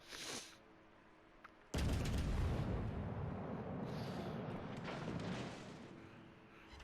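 Naval gunfire in World of Warships, heard near the Azuma cruiser: a faint burst, then a heavy booming salvo that rolls on as a sustained rumble for several seconds before fading slightly.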